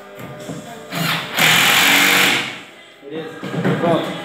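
A power screwdriver driving screws to install a shelf, a couple of loud whirring bursts, the longest lasting about a second, with someone speaking Portuguese before and after.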